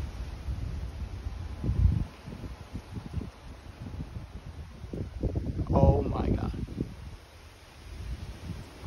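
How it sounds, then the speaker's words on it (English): Strong gusting wind buffets the microphone outdoors during a severe storm on a tornado outbreak day, rising and falling in bursts while a person talks. "So windy."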